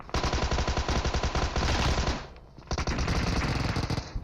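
Two players trade rapid automatic gunfire in PUBG Mobile: loud, dense bursts that break off for a moment around the middle, then pick up again just as fiercely.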